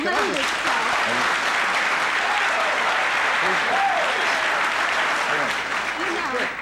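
Studio audience applause on a television talk show: a steady, full wash of clapping from a large crowd that holds evenly throughout, with a voice talking faintly over it.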